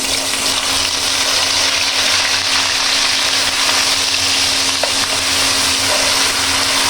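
Garlic paste frying in a hot pan, a loud, steady, continuous sizzle with a constant hiss and a faint low hum underneath, with no talking.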